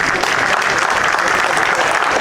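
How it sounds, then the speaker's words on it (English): Spectators at a darts final break into sustained applause, a dense steady wash of clapping that stays loud and even throughout the short stretch, with no individual claps standing out. "They've started clapping."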